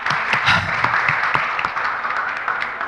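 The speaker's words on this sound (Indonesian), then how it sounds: "Tepuk tangan teman-teman" Steady applause from a gathered audience at an Indonesian storytelling event, dense clapping held at an even level throughout with no talk over it.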